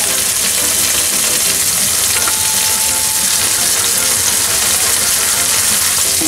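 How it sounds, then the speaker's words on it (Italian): Garlic, capers and sun-dried tomatoes fry in oil in a pan, a loud, dense, steady sizzle and crackle that fills the whole stretch without pause. "profuma l'aglio, i capperi, i pomodori secchi e facciamo soffriggere bene tutto quanto"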